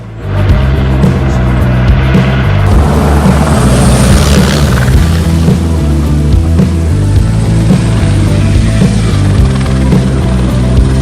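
Helicopter hovering during a power line pull with riggers guiding cable through tower sheaves in strong wind, a loud, close, continuous rotor and engine roar that swells in after a brief start.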